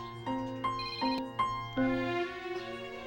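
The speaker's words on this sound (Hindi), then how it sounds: "राधा बहन का फोन? आखिर क्या बात होगी?" A phone rings in a household drama scene, a repeated electronic ringtone melody with short tonal bursts over a steady low hum, close and clear with no talking.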